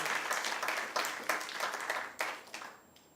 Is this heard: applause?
yes